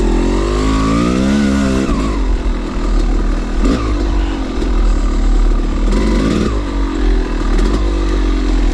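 Several dirt bike engines rev hard while climbing a steep hill, with loud, close, raspy two-wheeler roars that surge and drop repeatedly.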